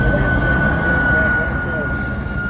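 A propeller airplane taxis past at an air show in Camarillo, air brakes open, giving a steady loud engine drone with a sustained whine throughout, close and continuous without a break.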